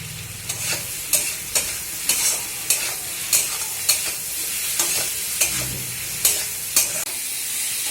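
Spice masala for hilsa curry sautés in a pan over a high flame, a constant sizzle broken by regular scraping strokes of a spoon roughly every half second, close and with no voices.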